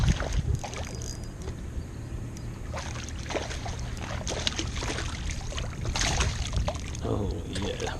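A Pelican Catch 100 fishing kayak turns around on a lake, with steady water wash and wind rumble, intermittent paddle splashes and drips, and a little muffled background talk.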